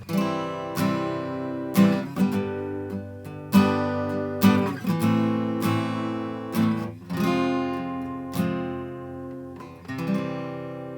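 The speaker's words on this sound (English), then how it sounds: "try changing the 4 major to a 4 minor, and that would sound like this" Sustained piano-like chords move through a slow progression with the IV chord changed from major to minor, each change struck clearly with a darker minor turn, no voices present.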